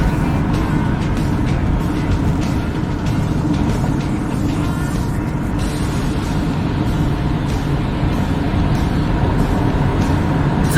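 A car running on Bud Light beer in place of transmission fluid drives steadily with a continuous, fairly loud engine and road drone, no clear pauses, close to the microphone.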